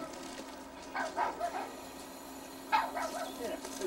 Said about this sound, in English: Get up, puppy!